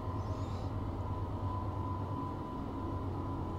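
A freight train rolls along in the Train Life railway simulator, hauling iron ore toward Berlin: a steady, close, continuous engine rumble with a sustained tonal whine, loud and unbroken throughout, no voices.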